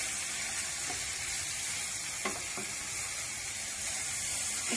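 Meat fries in a pan until the liquid has nearly boiled off and a crust forms, a steady close hiss with a few brief clicks and stirs, and no talking.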